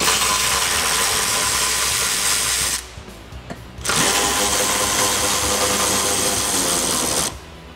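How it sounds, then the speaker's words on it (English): A ratchet with a 15mm socket backs out the bolts that hold a Jeep Wrangler JK bumper to the frame. It makes two loud, close, continuous whirring runs separated by a brief pause, with no talking. "Now using a 15mm socket on our ratchet, we're gonna go ahead and remove the 2 bolts that attach our bumper to our frame"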